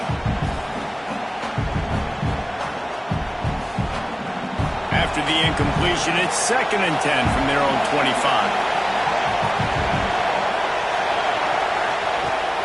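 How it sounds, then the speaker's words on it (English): Loud home stadium crowd in a college football game, a sustained roar that swells as it goes on, heard beneath a commentator calling the play. "Man, this crowd really affecting the football game."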